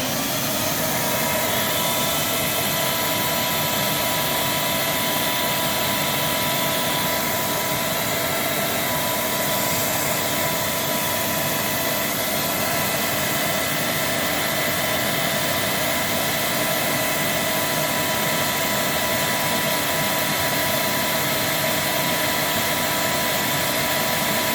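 A Fairfax vacuum cleaner runs steadily during an airflow test, giving a loud, constant motor whine and rushing air that holds unchanged for the whole stretch, close and with no talking.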